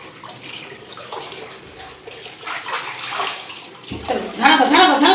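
Water rinses shampoo off a dog during its bath, a steady splashing and running stream that swells louder near the end, with a voice talking over it.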